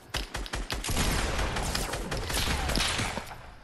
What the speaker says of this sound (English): we're being sniped at